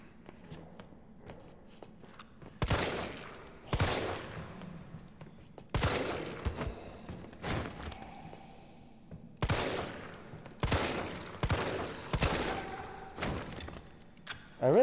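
Repeated bursts of gunfire from shooting enemies in Resident Evil 3, loud broadband blasts in clusters with quieter footsteps and shuffling between volleys.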